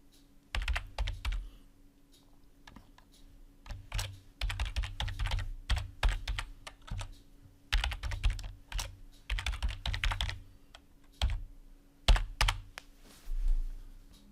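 Someone types an email address on a computer keyboard, quick close bursts of keystrokes with short pauses between runs and a faint steady hum behind.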